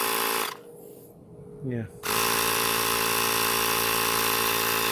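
A Ryobi tire inflator pumps up a car tire with a loud, steady buzzing drone. It runs briefly, pauses while a short word is spoken, then starts again and runs on strongly.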